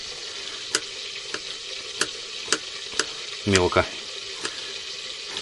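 A chicken leg fries in a pan in a rustic dugout kitchen, a constant low sizzle running beneath regular sharp knife taps on a board as garlic is chopped, with one brief rattling scrape and a short spoken word.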